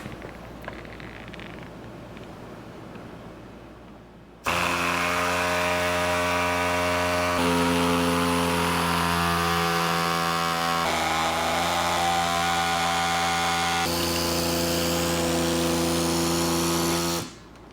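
A power tool whittling down a Dodge fan shroud during a Cummins swap on a Chevy K30, a loud sustained high whine that starts abruptly after a quieter stretch, shifts pitch a few times as it cuts, then stops.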